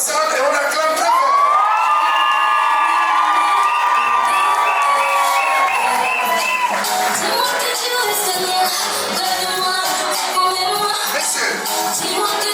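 Wedding guests at a civil marriage ceremony cheer loudly and continuously in a packed hall, a dense roar of crowd noise with whoops and high shouts layered on top throughout.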